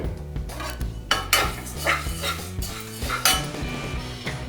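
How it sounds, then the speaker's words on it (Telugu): Coriander seeds and whole garam masala are stirred in a metal pan for biryani masala, with a spoon repeatedly clanking and scraping against the pan at close range and a faint sizzle underneath. "ఇప్పుడు హోల్ గరం మసాలాకి ధనియాలు వేసుకున్నాను"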